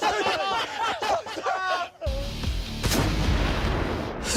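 A World War II mortar fires once with a heavy, close boom and a long rumbling tail, following a few seconds of excited talk outdoors.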